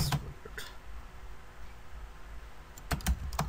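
Someone types a short password on a computer keyboard, quiet scattered keystroke clicks with brief pauses between bursts, alone in a quiet room.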